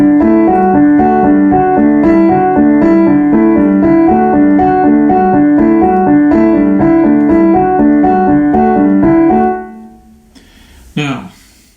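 Solo piano in an odd polyrhythm, the right hand phrased in 7/8 over a left-hand ostinato in 3/8, played steadily and loud for about nine seconds before stopping, followed by a brief faint knock.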